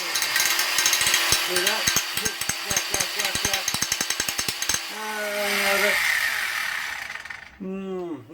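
A wobbling Certa angle grinder runs against a metal detector pick during sharpening, giving a loud rapid rhythmic chatter for about five seconds, then a smoother whir as it spins down; a voice speaks briefly near the end.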